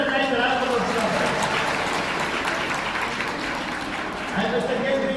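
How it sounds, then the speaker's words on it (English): Grade 11 maths workshop audience applauds in a steady, dense wash of clapping that holds for about five seconds, with a few voices mixed in near the start and end. "give yourself a nice round of applause"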